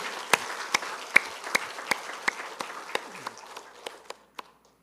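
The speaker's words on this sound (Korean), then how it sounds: "그에게 영광과 찬양의 박수를 한번 올려드리겠습니다" Scattered hand claps from a church congregation at a 45th anniversary worship service, about a dozen sharp separate claps over a soft murmur, thinning out and fading to silence.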